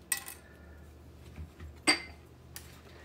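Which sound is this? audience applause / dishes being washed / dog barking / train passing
dishes being washed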